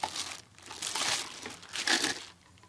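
Plastic bag crinkling and rustling in bursts while blower parts for a Makita BHX2500 handheld petrol blower are unpacked, close and fairly soft, with no talk.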